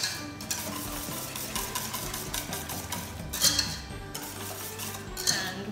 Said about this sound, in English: pop your cinnamon into the mixture and again make sure it's nicely combined through